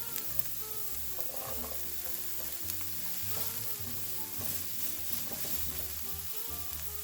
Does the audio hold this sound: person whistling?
no